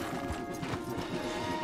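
Horses' hooves clip-clop on a path in the Red Dead Redemption 2 video game, a quick continuous rhythm of close hoofbeats with a faint whinny mixed in.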